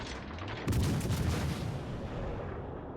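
A heavy boom from a warship's main guns firing AP shells in World of Warships Legends, one loud blast that rumbles and fades over a few seconds.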